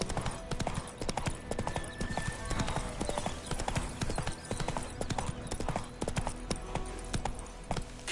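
In The Witcher 3, a horse gallops with steady, rapid clip-clop hoofbeats. The hooves are loud and continuous, with faint background game sound underneath.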